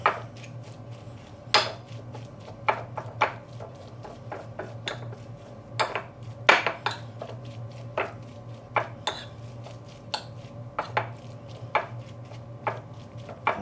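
Salmon ravioli filling being mixed in a bowl, a quiet run of irregular clinks and taps of utensil against the bowl over a low steady hum, with no talking.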